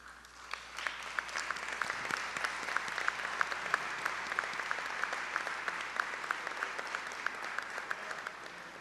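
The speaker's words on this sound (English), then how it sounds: "let's give them a quick round of applause" A modest audience at a legislative breakfast gives a steady round of applause, with even, continuous clapping at moderate volume and no talk over it.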